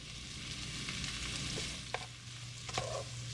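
Sliced kielbasa and green beans fry in a pan with a steady, close sizzle, broken by a couple of brief scraping stirs, with no talking.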